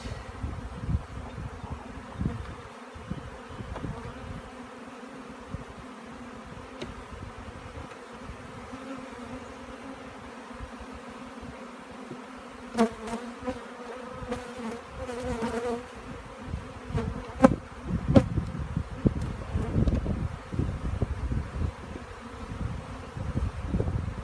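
Honey bees buzzing densely around an open beehive during an inspection, a close, continuous hum that swells louder toward the end, with occasional brief clicks and knocks.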